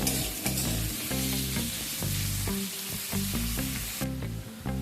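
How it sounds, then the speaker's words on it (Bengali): Potatoes frying in a pan, giving a dense continuous sizzle with a spatula stirring and scraping through it, close and steady for the whole stretch, with no voices. "আলুটাকে সামান্য একটুখানি ভেজে নেব।"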